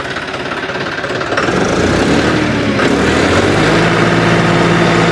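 A tractor's diesel engine rises in pitch as it revs, running loud and close with a rough, knocking rumble throughout, in Khukhrana village, Moga district, Punjab.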